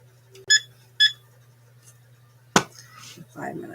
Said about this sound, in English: we're going to set our 20-minute timer